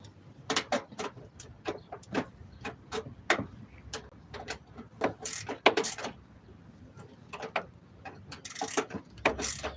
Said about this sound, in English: Speed wrench.